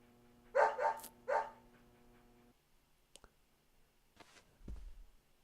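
Willie, a dog in a video game, gives a few quick barks close up over a soft hum, then goes quiet before a faint click and a low thump.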